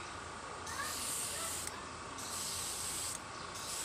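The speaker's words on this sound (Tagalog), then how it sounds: "Now, ready na natin yung ating spray." An airbrush sprays green paint onto a taped baby sando shirt in a steady close hiss, cutting out briefly twice between bursts, no talking.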